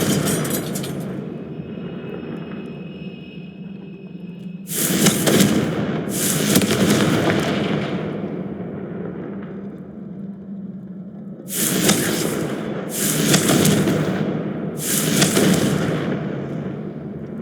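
Fiery Confringo spell blasts in the Hogwarts Legacy video game, loud crackling bursts in two clusters of three, each a sharp broadband explosion with a short decay.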